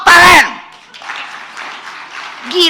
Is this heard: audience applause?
yes